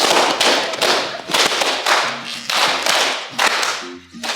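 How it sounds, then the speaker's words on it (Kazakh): A crowd applauds at a live event, with dense rhythmic bursts of clapping that swell and ebb while faint music plays underneath. "Кол чабалар."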